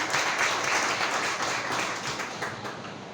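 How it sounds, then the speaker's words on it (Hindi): Audience applause for children at a Gandhi Jayanti celebration: steady, dense clapping from a crowd, loud and sustained throughout, tapering only slightly toward the end. "जोर से तालियों से बच्चों का शुक्रिया करें। जोर से ताली बजाइए कृपया।"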